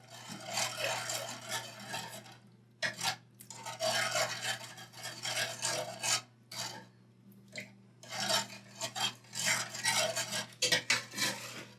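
Christmas bread dough being mixed, ingredients and melting butter worked into flour in a bowl: repeated scraping and stirring strokes in uneven bursts separated by short pauses, close and moderately quiet, with no talking.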